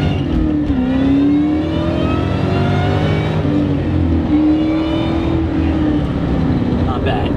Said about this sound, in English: We're gonna do a first gear pull.